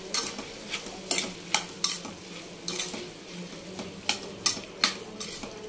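Ridge gourd chutney with cumin and salt being stirred in a frying pan: a run of sharp, irregular spoon scrapes and clinks over a low, steady sizzle, close by and with no talking.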